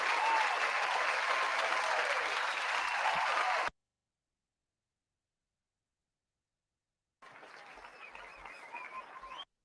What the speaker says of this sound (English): let's give him a round of applause there